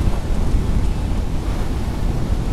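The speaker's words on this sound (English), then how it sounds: "And it started raining" Heavy rain roars steadily with a deep rumble of thunder underneath, loud and continuous without a break.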